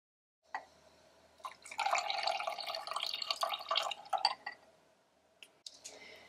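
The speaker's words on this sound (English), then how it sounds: "And lastly, I'll pour in the bluing." Laundry bluing poured into a glass container for a home crystal-growing project, a close splashing stream lasting a few seconds with drips at the start and end, then a few soft clinks.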